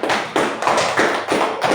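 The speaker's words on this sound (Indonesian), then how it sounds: "Tepuk tangan" Children in an Islamic studies class clap their hands together, a crisp group applause in rhythmic bursts of about three per second with no talking.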